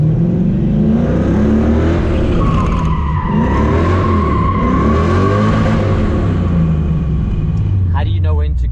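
A car drifts through a fast, aggressive turn, its engine revving hard while the tires squeal and skid, loud and close, with rising and falling engine pitch throughout.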